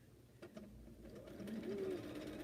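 A sewing machine stitches binding onto a bed-size quilt, its quiet, steady mechanical whir building slightly louder toward the end with a few small clicks, close by and with no talk over it.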